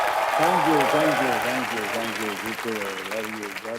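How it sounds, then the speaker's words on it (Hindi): A studio audience gives Dharmendra a sustained round of applause on a TV entertainment show, while someone repeatedly speaks thanks over the clapping. "जोरदार तालियां हो जाए धर्म जी के लिए"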